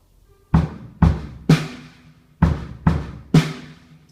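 Six sharp drum hits, bass and snare in a slightly uneven rhythm, each ringing out briefly, played alone and close.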